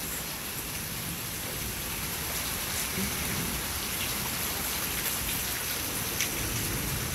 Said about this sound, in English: I love when the rain brings the cool air.